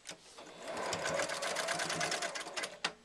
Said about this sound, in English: I just make a little loop around my D-ring and sew across it